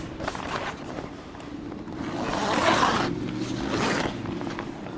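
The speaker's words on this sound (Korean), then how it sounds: "그리고 이 지퍼 지퍼 다시 풀어줘야겠죠" A rooftop tent zipper being drawn open outdoors, a steady scraping run swelling louder through the middle, with a couple of shorter zip pulls at the start and end over a low background hum.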